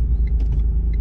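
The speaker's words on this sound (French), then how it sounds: "Là il y a une voiture." A car on a road, heard as a steady, loud low rumble of engine and tyres that continues through the whole moment, with no voices.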